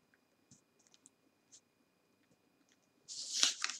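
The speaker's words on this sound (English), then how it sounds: "Now just fold it into the top here" A book page being folded and creased, a few soft faint paper clicks and taps, then a louder crinkling rustle near the end.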